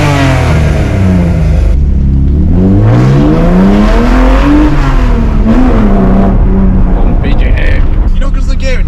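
A BMW E30 accelerates hard through its gears, loud and close, engine pitch climbing, dropping at each shift and climbing again, with voices talking over it.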